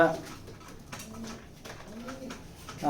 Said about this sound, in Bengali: স্পেশালি একটা কবুতর আমি দেখাবো আপনাদেরকে